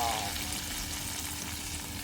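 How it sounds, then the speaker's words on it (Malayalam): Shallots frying in a pan for fish curry, a soft, steady sizzle heard up close and fairly quiet over a brief moment. "ചട്ടിക്ക് നമുക്ക് ചെറുള്ളി വറുത്തിടാം."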